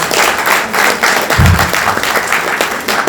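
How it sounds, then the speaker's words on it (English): Sustained round of applause from an audience at a London book launch for the Indian High Commissioner, dense clapping with a brief low thump partway through. "let's give another round of applause to this great Indian High Commissioner."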